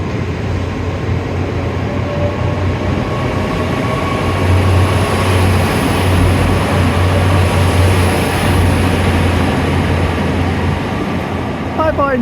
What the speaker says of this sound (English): my train goes off into the distance.